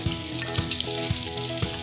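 A pan of butter and oil heating gives a steady, moderate sizzle with a few soft scraping taps at regular intervals. The sound is close and continuous, with no voices.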